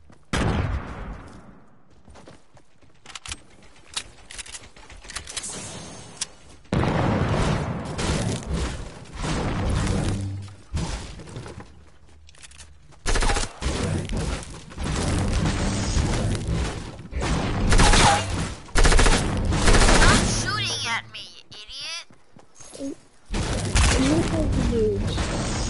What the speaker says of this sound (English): This kid keeps shooting the gun that he stole from me.